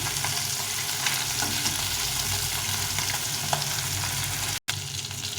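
Four bata fish frying together in hot oil in a pan make a loud, constant, close sizzle that drops out for a split second near the end, then resumes.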